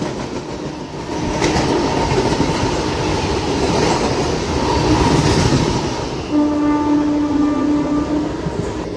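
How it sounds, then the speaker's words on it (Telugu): The Pinakini superfast express from Vijayawada to Chennai Central thunders past with a loud, sustained rumble and rattle of wagons, and a long horn blast sounds near the end. "అదిగోండి మాటలోనే వచ్చేసింది Pinakini Vijayawada Chennai central Pinakini super fast"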